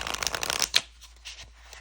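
A deck of oracle cards printed on normal cardstock is riffled in a quick close burst of crisp flutters, then a snap and a few soft shuffling rustles.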